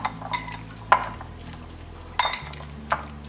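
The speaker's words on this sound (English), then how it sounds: "I'm gonna add a ½ cup of refried beans and a ⅓ cup salsa. And then I'm gonna just mix the two of these together" Refried beans and salsa being stirred together in a small bowl, with a few sharp clinks of a utensil against the bowl spaced irregularly over a low background hum.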